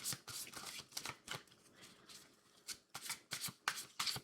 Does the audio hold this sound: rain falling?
no